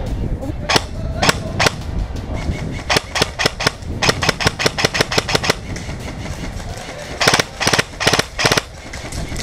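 Tippmann HPA BREN 805 A2 airsoft gun firing during outdoor skirmish gameplay, sharp snappy shots in single pops and quick bursts, close and loud, with a rapid cluster near the end.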